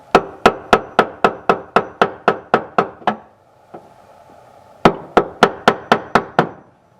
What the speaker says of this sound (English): it's recommended that you use a center punch and hammer